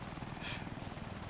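A helicopter in the Arma 3 video game drones steadily with a fast rhythmic rotor chop, loud and continuous throughout, with no talking.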